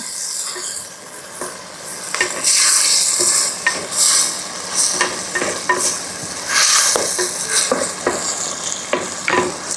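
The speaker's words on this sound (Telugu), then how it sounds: "సో ఇప్పుడు ఒక్కసారి అయితే మొత్తం బాగా కలుపుకుందాం మనం." A tomato rice mixture with chili powder is stirred in a hot pan: close, steady sizzling with repeated scraping strokes of a spoon against the pan, no voices.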